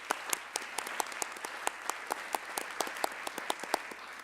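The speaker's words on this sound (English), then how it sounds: "let's give her some applause." An audience at a regional educators awards and scholarship evening applauds, a light steady patter of many hands clapping, moderately distant and fairly faint, with no speech over it.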